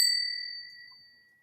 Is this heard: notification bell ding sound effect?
yes